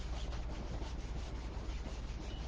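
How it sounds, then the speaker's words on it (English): A stencil is rubbed firmly down onto a makeup bag, giving a close, steady scratchy rubbing sound in quick repeated strokes, with no talking. "I want to burnish it down fairly well"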